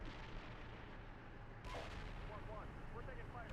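Tank guns and gunfire in the Steel Beasts Pro PE battle game, a dense continuous rumble of distant shooting and blasts filling the whole stretch, steady and heavy.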